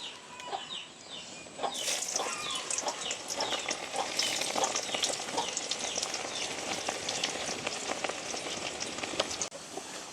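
Garlic frying in hot oil in a pan in a village outdoor kitchen, a steady crackling sizzle with occasional stirring scrapes, with chickens clucking faintly in the background and no talk.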